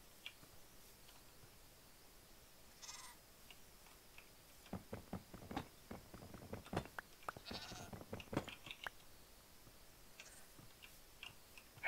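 A goat bleats a few times in Minecraft, short quiet calls scattered over a soft background, with clicky ticking game sounds clustered toward the middle.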